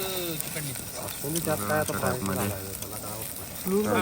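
Onion and masala fry in a pan for a village-style crab curry, a continuous sizzle heard beneath someone talking steadily over it throughout.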